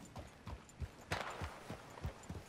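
Hooves of a video-game horse clip-clop on a hard surface in a steady walking rhythm, about eight close, dull thuds over a couple of seconds.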